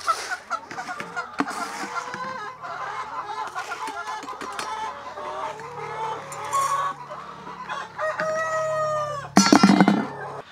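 Chickens, including Rhode Island Reds on a small Cebu farm, cluck busily at feeding time, with a rooster crowing near the end and some background sounds.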